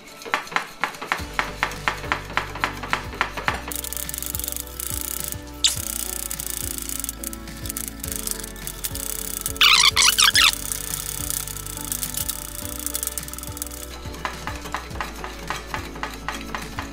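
Dalgona coffee mixture whisked hard in a bowl at home, giving a steady fast rattling and scraping that runs continuously and close, with a brief harsher scrape partway through.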